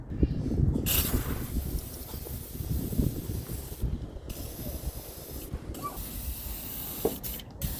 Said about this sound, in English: keep giving this on this side and the other side a good soaking in WD-40